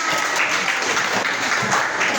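A classroom of students applauding during a lesson on understanding locations through maps, a loud, dense burst of clapping sustained evenly from start to finish.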